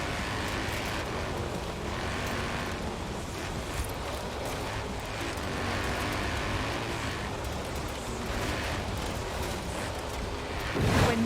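A Mini X-Raid Countryman Dakar rally car in Forza Horizon 4 gives a loud, steady, rough engine roar that carries on without pause, with broadband noise throughout and no talk.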